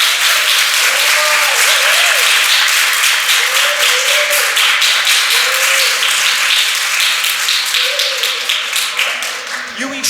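An audience applauds at a traditional Amazonian music gathering in Acre, Brazil, with sustained, dense clapping over ten seconds and voices calling out over it.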